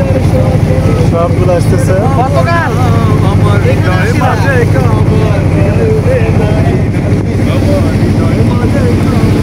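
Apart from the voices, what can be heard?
trawler boats motoring on a river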